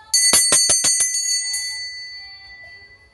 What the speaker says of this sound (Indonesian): ditandai lonceng berbunyi